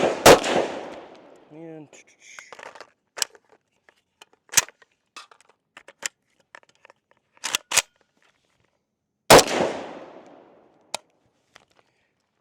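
Zastava M92 rifle fired outdoors in Kentucky, two loud sharp shots several seconds apart, with scattered metallic clicks and handling noises between them and a brief voice.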